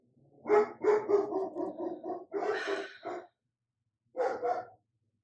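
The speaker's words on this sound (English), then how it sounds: "every time they stop barking, I'm gonna talk" Two dogs, one anxious and one protective, bark close and loud in quick repeated bursts, pausing briefly before another short volley of barks.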